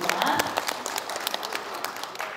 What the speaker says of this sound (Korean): 이사장님께 박수 부탁드립니다